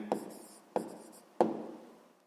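A pen moves across paper in three separate bursts of scratchy writing, each starting with a sharp tap and trailing off, close and quiet against silence, with no talking.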